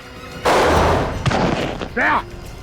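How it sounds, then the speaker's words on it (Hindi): A sharp gunshot blast with a booming tail, followed by a brief shout. "मुझे लगा नहीं था ये गोली चलाएगा"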